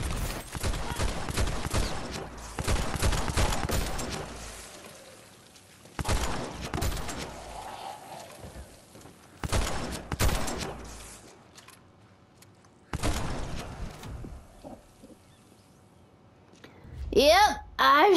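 Bursts of gunfire from weapons in the video game Dead Island 2 rattle out in loud, dense volleys separated by pauses, with a voice talking under and between the shots.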